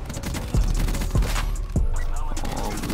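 Gunfire rattles through a shooter video game match, with rapid bursts of shots and a few heavier low booms over a busy, noisy game mix.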